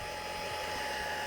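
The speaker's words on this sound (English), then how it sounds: "I'll go heat gun, it's quieter." A heat gun blows steadily to dry alcohol inks on metal, a continuous close airy whir and hiss that holds level from start to finish with no talk.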